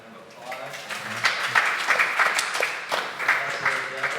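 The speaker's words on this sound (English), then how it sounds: "Let's give them a round of applause." Audience applauding a lecture panel, scattered clapping swelling from a small room crowd and rising mid-way, with people talking over it.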